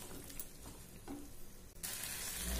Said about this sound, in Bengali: কষিয়ে নেব আবার ভালোভাবে।